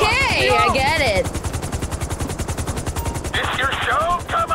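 In Grand Theft Auto V, a helicopter's rapid rotor chop runs throughout while bursts of gunfire crackle over it, the shots loudest at the start and again near the end.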